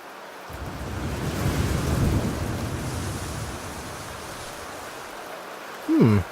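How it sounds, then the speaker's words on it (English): Stormy weather with a steady roar of wind and rain, swelling around the second second and easing off, low thunder rumbling beneath and a short burst near the end. "So we got the wind and the rain"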